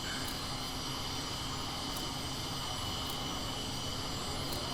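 An aircraft engine runs in the VTOL VR video game as a steady, faint, broadband roar with a high whine, holding even and unchanging throughout.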